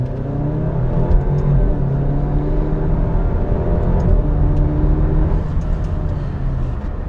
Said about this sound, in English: Now I have a Remus exhaust as well as a Forge intake on this, so it sounds a bit different